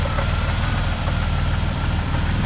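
A 1987 Buick Grand National with an upgraded big turbo and intercooler idles loudly and close by, producing a steady, deep rumble with an even low pulse and no talk.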